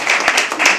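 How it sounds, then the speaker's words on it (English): Audience clapping at a live poetry open mic at the Habitat, a brief burst of close, fairly loud applause with a few distinct claps standing out. "Don't stop clapping. Keep clapping."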